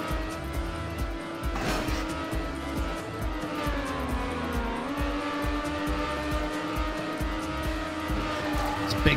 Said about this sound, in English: It's a big drift.